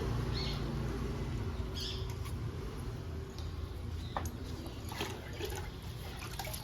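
Liquid fertilizer is poured onto indoor plants, a soft, continuous pour and splash with a few brief higher trickles, heard close by.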